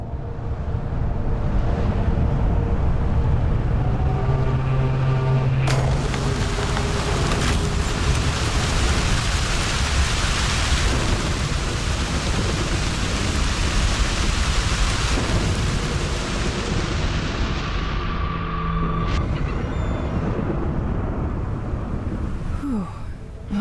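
A heavy storm in Broken Pieces pours steady loud rain throughout, with sharp thunder cracks and long rolling rumbles midway before easing near the end.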